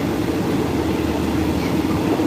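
A passenger train runs from Phetchaburi to Bangkok in Thailand, heard as a steady, close, even rumble of wheels and carriage noise with no talking.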